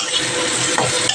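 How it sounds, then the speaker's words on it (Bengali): Sesame-coated eggplant slices fry with garlic and chili in hot oil, a steady loud sizzle with a couple of brief stirring scrapes near the end. "এখানে দেখো তিল বেগুন ভাজা হচ্ছে, রসুন আর লঙ্কা দিয়ে।"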